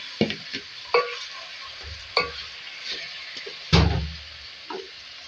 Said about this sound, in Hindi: इसमें मैरिनेट की हुई चिकन ऐड करेंगे।